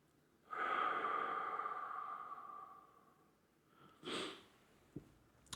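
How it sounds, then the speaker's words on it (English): A slow, deep breath drawn in and let out during a lower-back mobility exercise on a foam roller, close and soft, followed by a brief second breath and a few small taps. "a few slow breaths here"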